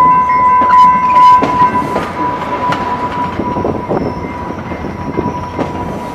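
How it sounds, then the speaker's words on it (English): Rail Runner commuter train rolling along its tracks, heard from on board with steady wheel rumble, rhythmic clickety-clack over rail joints and a faint tonal whine, loud and continuous throughout. "I rode this train at 6:35 from Berlin, all the way out here."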